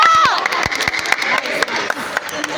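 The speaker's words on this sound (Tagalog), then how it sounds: "Para sa inyo lahat yung palakpak na yun." Applause and cheering at a youth badminton tournament, a 13-and-under mixed doubles match: brief, scattered clapping from a small crowd mixed with voices, fading quickly.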